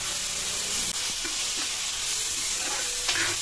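Onions fry with salt in a pan for Mumbai street-style pav bhaji, a loud, continuous sizzle with occasional stirring scrapes close by.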